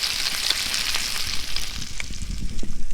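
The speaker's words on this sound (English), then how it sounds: "Got the bacon sizzling away." Bacon sizzling in a frying pan at a riverside campsite on the River Murray in South Australia: a steady, close crackling hiss with scattered pops, continuous throughout with no talking.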